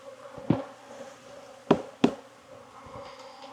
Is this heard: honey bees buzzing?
yes